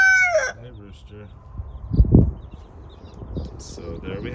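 A rooster crows once near a farm coop where baby chicks are kept, a loud drawn-out call rising then falling, with someone speaking before and after it.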